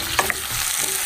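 Squash sautéing in a hot pan for a late breakfast, a steady close sizzle with a couple of quick utensil clicks near the start, no talking.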